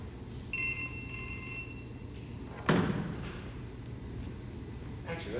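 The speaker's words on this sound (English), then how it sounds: "Why does the phone always ring during class?" A phone rings with a short electronic trill during a chemical engineering class lecture, followed by a sharp thump, while the room's steady background hum continues.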